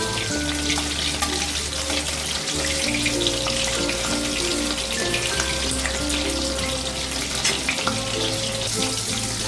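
Prawns frying in a pan for a restaurant-style chilli garlic dish produce a steady, dense sizzle throughout, with a low humming drone underneath and no talking.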